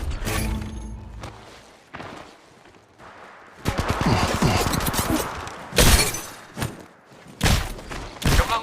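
Gunfire in the battle-royale video game Apex Legends: bursts of shots and sharp impacts with cracking, shattering hits, separated by quieter stretches, loud and close.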